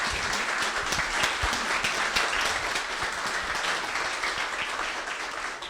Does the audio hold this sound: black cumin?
no